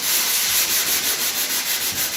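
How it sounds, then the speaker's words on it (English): A hand sander scrubs firmly over a drywall nail hole in steady, rhythmic back-and-forth strokes, a loud, close, gritty rasp with no pauses. "You can do it with the pole sander, hand sander"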